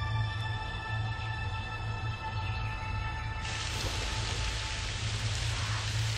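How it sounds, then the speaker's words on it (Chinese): Sudden rain pours steadily, a dense constant hiss that grows brighter partway through, with no talking. "怎么忽然下雨了？"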